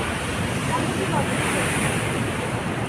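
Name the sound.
waves at a beach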